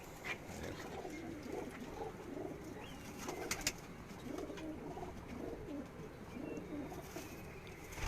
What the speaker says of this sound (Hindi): ये 200 ब्रीडर कबूतर हैं उनके